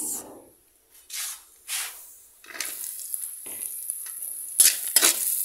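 Sliced carrots hitting a hot pan for pansit, sizzling in repeated bursts as they are stirred and tossed, with short quiet gaps between each loud hiss.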